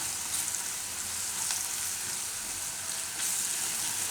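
Chickpea flour roasting in hot oil beside yogurt-coated green chilies in a pan, a steady close sizzle and crackle with no talk over it.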